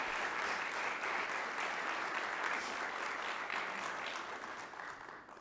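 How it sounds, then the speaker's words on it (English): A crowd at a special call meeting gives sustained applause, a dense, even wash of clapping that holds steady for several seconds and then eases off slightly near the end. "If we could all give him a round of applause for all his service."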